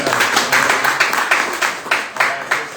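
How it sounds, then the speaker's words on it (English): Audience applause at a homebuying seminar, a few people clapping in a room with distinct, fairly regular hand claps, moderately loud and close. "Round of applause for Brandon."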